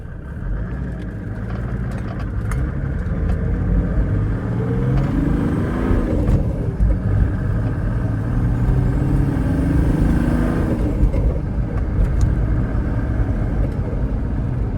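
A Mercedes-Benz OM606 diesel engine on a mechanical injection pump runs with a steady, rough rumble, rising and easing in revs, jerky, noisy and clattering throughout, no voices.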